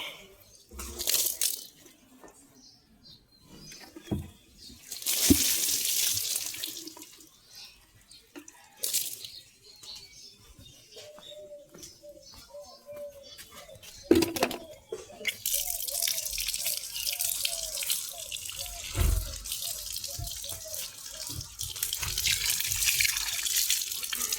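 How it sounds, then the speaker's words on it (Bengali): Water splashes and trickles over plants in intermittent bursts, with dripping and a longer steady spray toward the end; faint birdsong is heard in between. "আমার গাছে পানি না দিলে একদম ভালো লাগে না"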